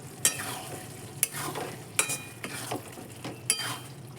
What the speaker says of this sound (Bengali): আর একটু গরম মশলা দিয়ে দিলাম দিয়ে ভালো করে নাড়িয়ে মিশিয়ে নিচ্ছি